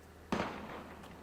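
Gunfire in the Valkyria Chronicles video game: a single sharp burst or shot, with no talking.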